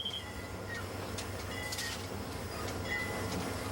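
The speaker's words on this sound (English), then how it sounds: "When parking a quarter-mile long train, you have to know not only where the engine is, but also where the last car is." A passenger train rolling along rails, a steady low rumble with faint squealing and clicking over the top, heard continuously and fairly quietly from on board or close by.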